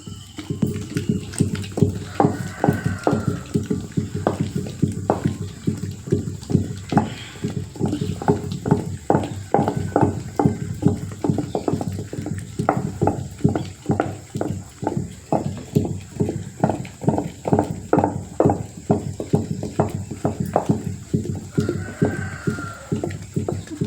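A traditional stone wet grinder churns rice and urad dal batter with a steady rhythmic thumping and sloshing, repeating roughly every half second at close range.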